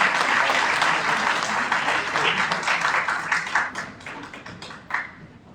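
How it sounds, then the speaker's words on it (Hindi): An audience claps at a police performance awards ceremony in a hotel hall in Hyderabad, Sindh: loud, dense applause that holds steady, then thins into scattered claps before fading out. "आपकी भरपूर तालियां"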